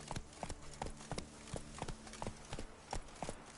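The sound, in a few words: horse Roach hooves clip-clopping in video game Witcher 3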